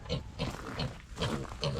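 Pigs grunting in a cold, icy farm pen, several low snorty grunts in an uneven rhythm close by, with no talking.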